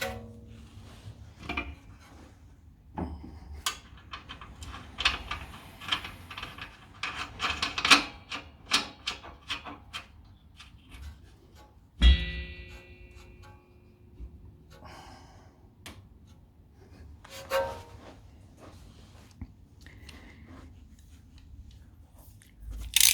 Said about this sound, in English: now you can put the nut back on the other side